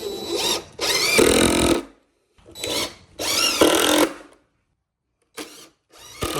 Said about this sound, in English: let's screw it down